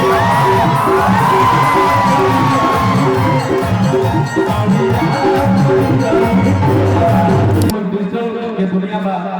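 Crowd cheering, whooping and yelling at a mass wedding event honouring Vicky Yadav, loud and sustained with a rhythmic music beat underneath, then cutting down near the end to a quieter murmur.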